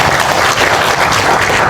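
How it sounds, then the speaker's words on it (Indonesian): An audience at a political rally in an indoor hall applauds. Dense, loud clapping fills the whole moment at an even level. "Tepuk tangan buat semuanya"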